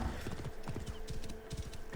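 Horse hooves clip-clop at a steady trotting rhythm while riding in the video game Assassin's Creed Origins, close and clear with no talking over them.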